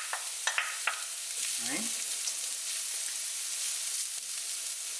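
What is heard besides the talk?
onions added to carrots frying in pan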